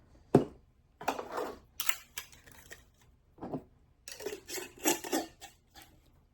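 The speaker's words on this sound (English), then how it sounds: "Lid goes on here so that the sharp ends are there." Metal lids are screwed onto glass mason jars holding borax ant baits, making several separate bursts of scraping, clinking clatter with quiet gaps between them.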